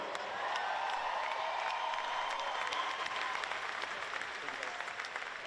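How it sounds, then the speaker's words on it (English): A local crowd at the Torian Pro 2019 fitness competition applauds and cheers an athlete during a Friday night event, with steady, loud clapping and scattered whoops that hold for several seconds. "How about this local crowd? Give it up for Mr. Shane Orr."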